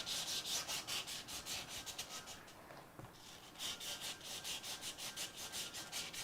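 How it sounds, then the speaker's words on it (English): Coarse sandpaper scrubs residue off a Honda motorcycle part in steady back-and-forth strokes, close and rhythmic, with a short pause midway and no talk. "it's just like this coarse piece of sandpaper that I have. You just clean this up. Get any kind of residue off of it."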